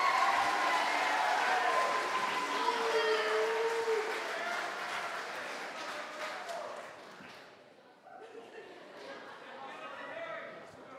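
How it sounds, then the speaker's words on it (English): Applause and crowd noise fill a school house haka competition as an award is handed over, broad and sustained at first, then easing and briefly dipping before rising again, with voices mixed into the crowd. "can we have a round of applause for Marceline?"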